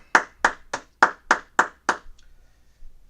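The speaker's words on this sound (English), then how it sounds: "All right, clap it up." A group claps hands together in unison at an evening class, seven sharp, evenly spaced claps roughly a third of a second apart, then quiet.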